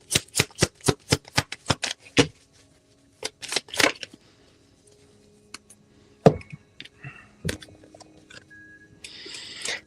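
Tarot cards are shuffled close up in quick rapid riffles, followed by sparser taps and slaps of cards being cut and laid down, with quiet gaps between.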